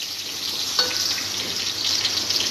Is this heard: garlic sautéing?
yes